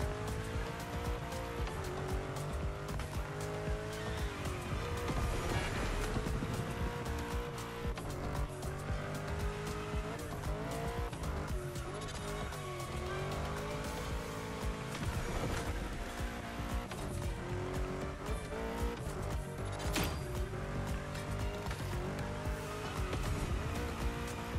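A car drifting through a bend in The Crew Motorfest in rain, a loud steady engine roar with rising and falling revs and sustained tire squeal, continuous throughout with no talk.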